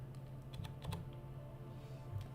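Computer keyboard typing in a quiet room, a few soft, irregular key clicks spread across a low steady hum, faint and close.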